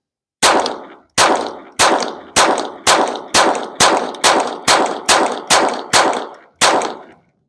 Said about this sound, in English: let's unload these rounds just so you guys see what's going on here